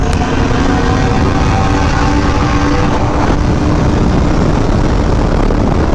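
A BMW M1000RR sport motorcycle exhaust roaring loud and close with exhaust valves held open, with a thick, steady engine drone throughout.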